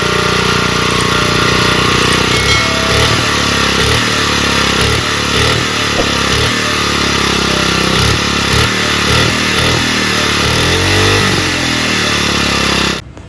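A small petrol engine on concrete road-building equipment runs loud and close with a steady, pulsing rhythm throughout, then cuts out abruptly at the end.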